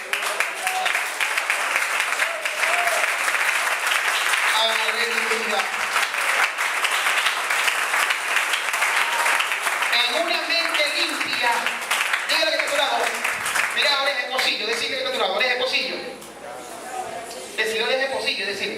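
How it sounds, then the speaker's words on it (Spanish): A church congregation breaks into sustained applause, dense clapping that fills the room evenly and then thins toward the end, with some voices mixed in. "un aplauso?"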